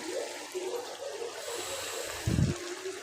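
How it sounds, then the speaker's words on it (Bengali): Water is poured from a mug into a pot of fish and broad bean seeds cooking on the stove, a soft continuous wash with a brief heavier gush toward the end, no voices. "একটু জল দিয়ে দিলাম 1 মগের মতো"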